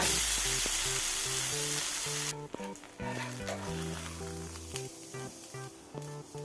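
Ghee poured around uthappam on a hot pan gives a loud, bright sizzle that drops suddenly to a quieter fry, with steady musical tones playing underneath.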